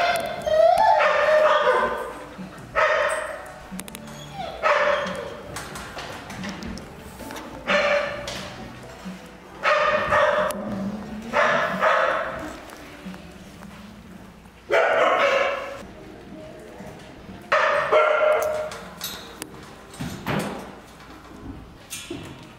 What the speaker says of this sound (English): rehabilitating dogs that are getting in fights with each other